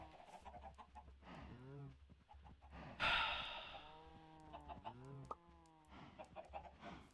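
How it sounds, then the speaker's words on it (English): Minecraft chickens cluck in a few soft, clipped calls, faint and scattered, mixed with a player's breathy sighs and a short burst of noise midway. "At least the chickens are producing eggs."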